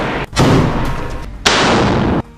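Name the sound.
rifle gunfire in combat footage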